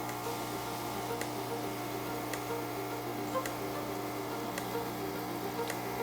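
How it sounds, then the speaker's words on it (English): Lelit Glenda espresso machine with its vibration pump running: a steady low hum and buzz with faint regular ticks about once a second, fairly quiet and with no talking. "that is the sound of the vibration pump."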